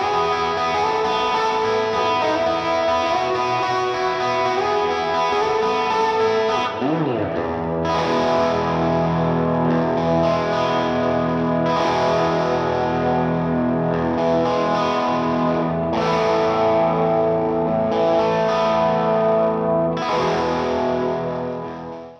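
An electric guitar runs through plate reverb on a country-style pedalboard, playing sustained, washy chords with a shimmering tail and a few strummed accents, loud and alone.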